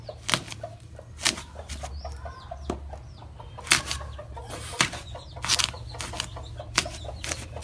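Chickens cluck and squawk in repeated bursts close by at evening feeding time on a farm where ducks are also kept, with scratching and small knocks between calls and no talk.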